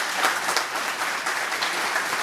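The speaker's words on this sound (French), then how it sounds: "Oui, on peut les applaudir." A crowded hall at the opening of a summer university applauds, a dense, even roar of many hands clapping that holds steady from start to finish with no speech over it.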